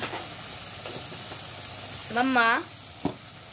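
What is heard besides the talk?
frying and stirring spices with turmeric in a pan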